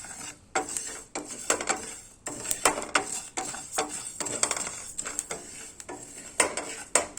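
Dry rice roasting in a pan for a health drink powder, stirred in repeated scraping strokes with metallic clinks and rasping grains, an irregular close rhythm of bursts and pauses with no talk.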